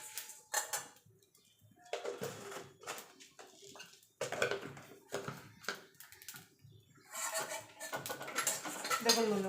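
Whole coriander and other spices dry roasting in a pan, with intermittent close scraping and clinking of a metal spatula against the pan in irregular bursts, no talking.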